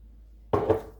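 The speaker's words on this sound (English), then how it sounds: "I'm gonna go ahead and pour some more water in the tray." Water from a glass poured into a grill's drip tray: one brief, close splash that starts abruptly and fades within about half a second after a quiet lead-in.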